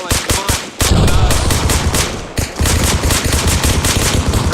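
Gunfire in Arma Reforger during a squad training session: loud, rapid bursts of automatic fire close by, broken by a brief pause, then more sustained shooting.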